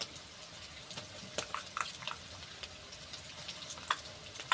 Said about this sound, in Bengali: দিয়ে আবার ভালো করে আদা রসুনটা ভেজে নেব